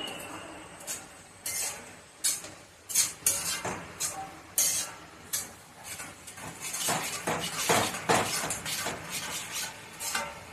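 A spoon scrapes and clinks against a pan as curd is mixed into ridge gourd bharit, irregular metallic strokes growing busier toward the end, close by with no one talking.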